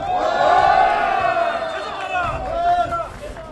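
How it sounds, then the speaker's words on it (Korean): A crowd of people lets out a loud, sustained shout at an outdoor political rally, a resolution rally calling for a National Assembly office in Sejong, swelling over about three seconds with voices blending into one roar. "큰 함성 외쳐주시기 바랍니다."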